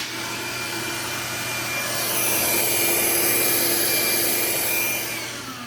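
A Hilti TE 6-22 rotary hammer with its TE DRS dust extractor switched on, a loud, steady whining rush of suction and motor noise that swells after a couple of seconds, holds, and then tapers off near the end.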